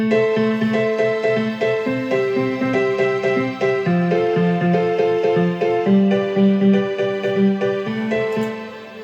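A piano-style chord loop on a Korg Volca, quantized at 120 BPM, repeats in a tight even rhythm with bright layered chords over a bouncing bass line, played alone.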